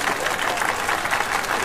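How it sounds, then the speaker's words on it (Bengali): Applause from an audience at a photo contest prize-giving as the second-place winner is called to the stage; dense, steady crowd clapping that stays even throughout without pauses. "তার জন্য করতালি"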